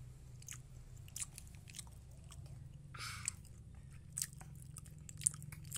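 Crunchy bites and chewing of a Delfi Take It yoghurt berry wafer bar with a creamy coating, heard as several short crisp crunches spread through a low steady background hum, close to the mic.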